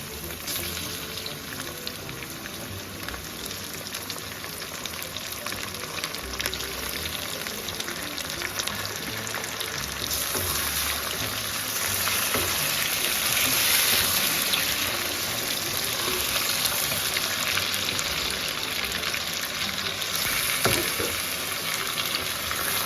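Large chicken pieces sizzle in a pan with browned onions, a continuous close crackling hiss that swells louder midway and keeps on steadily with scattered pops.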